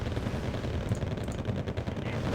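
Dense, continuous gunfire and machine-gun bursts from a Wargame: Red Dragon battle involving Abrams tanks, loud and rattling throughout with little pause.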